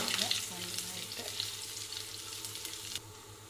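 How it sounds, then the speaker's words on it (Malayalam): Mustard seeds splutter and crackle in hot oil in a pan as shallots and curry leaves go in for a masala dosa chutney, a dense close sizzle that drops off sharply near the end. "കടുക് പൊട്ടി വരുമ്പോൾ ചെറുള്ളിയും കറിവേപ്പിലയും ഇട്ട് കൊടുക്കാം."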